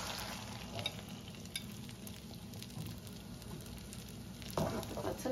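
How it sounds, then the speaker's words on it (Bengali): Breakfast food frying in a covered pan, a steady, moderately quiet sizzle with light crackling pops throughout and a brief louder burst of spattering toward the end. "এখন আমি আদার সাইড একটু ভেজে নিব"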